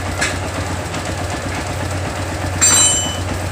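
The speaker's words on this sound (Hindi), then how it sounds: "गाड़ी का साउंड आप सुन पा रहे होंगे, गाड़ी हमारा स्टार्ट हालत में है।" A TVS Sport motorcycle engine idles after repair, a steady low, pulsing rumble with a faint rhythmic clatter, close by and unbroken, with a brief brighter rise near the end and no speech.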